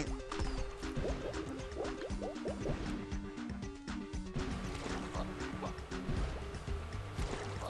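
Splashing and churning water in the Battleblock Theater video game, a busy run of liquid splashes and drips over game music, with faint talk at times.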